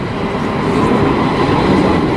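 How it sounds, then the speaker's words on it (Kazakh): A tram pulls into a stop in Istanbul with a steady, loud rolling rumble and rail noise that builds slightly, with no one speaking. "Біздің трамвайымыз келіп қалды."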